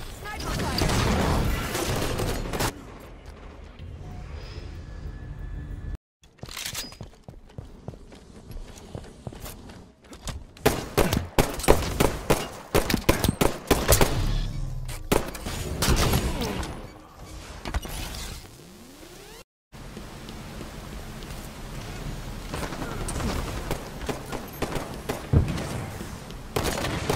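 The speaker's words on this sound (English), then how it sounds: "Sniper fire." Sniper shots and bursts of gunfire from a Halo 5 Slayer match ring out amid clicks, footsteps and mechanical game effects, with sharp cracks spaced irregularly and brief quiet gaps, while a voice speaks over parts of it.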